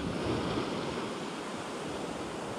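Ocean surf on a sandy shore washes and hisses in a steady broadband roar as the waves pull back, with no voices.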